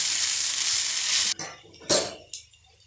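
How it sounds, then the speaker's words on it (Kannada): Baby corn Manchurian sizzles loudly and steadily in a pan, then the hiss cuts away into a few sharp scraping stirs and spatula scuffs near the mic, with no talking. "ಚೆನ್ನಾಗಿ ಇದರಲ್ಲಿ ಮಿಕ್ಸ್ ಮಾಡಬೇಕು"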